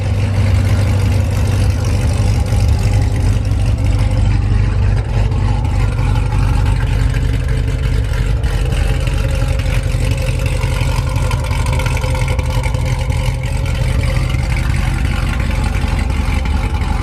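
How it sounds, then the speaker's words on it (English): Corvette Z06 engine and exhaust holding a loud, steady deep rumble for the whole stretch, close and continuous with no voices over it. "That exhaust is so freaking loud."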